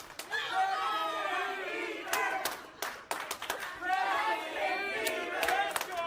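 A wrestling crowd at a WFA Reborn match heckles a wrestler, with loud chanting and shouting in rhythmic bursts, sharp claps and slaps breaking through, and a commentator speaking over the noise.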